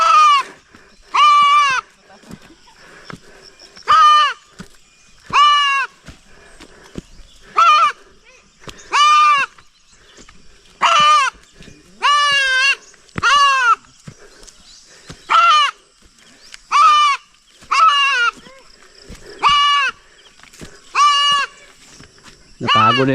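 A goat bleats over and over, about a dozen loud, close, wavering calls in a steady rhythm with short quiet gaps between them and no talking.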